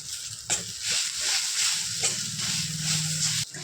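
Grated coconut tipped into onion and tomato frying in a pan, a bright hissing sizzle with stirring scrapes and brief clanks, steady and close.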